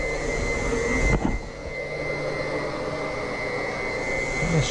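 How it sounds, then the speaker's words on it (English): Glycol pump running steadily while filling radiant snowmelt loops for a heated driveway, a constant mechanical whir with a steady tone and a brief knock near the start, no talk. "Check and see how my pump's doing."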